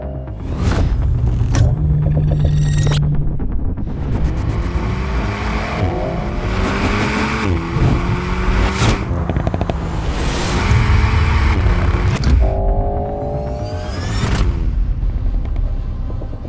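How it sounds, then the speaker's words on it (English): An Alpine A110S sports car on a racing circuit revs hard through repeated gear changes, engine pitch climbing and dropping with rumbling shifts, loud and close from the cabin, no talking. "So while I'm here, I thought we'd jump in the sporty car and give it a bit of fun around the circuit."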